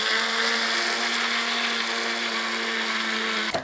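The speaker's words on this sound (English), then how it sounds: "I put it in a little food mill here, coffee grinder, and I'm just going to powder it up." A small coffee grinder used as a food mill whirs steadily, powdering granular sweetener, with a loud, even motor whine for the whole time and no talking, ending abruptly as it stops.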